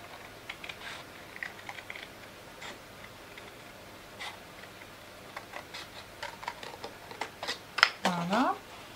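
Scissors cutting paper along a fold and then around a curve, a run of small close snips and clicks, ending in a brief voice that sweeps upward.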